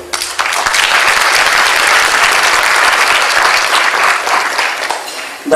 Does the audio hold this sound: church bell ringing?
no